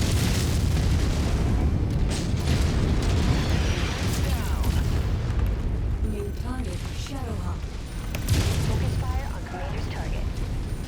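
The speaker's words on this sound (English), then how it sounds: "It's hard for me to fight because I'm constantly being attacked with artillery." Artillery shells pound the battlefield in MechWarrior 5, with dense, continuous booming and rumbling under mechanical whirring and weapon noise while someone talks over the combat.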